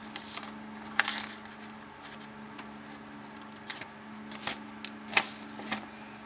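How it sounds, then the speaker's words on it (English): A few crisp scissor snips, spaced irregularly, close by against a quiet room hum. "Need to get some better scissors or learn how to cut better."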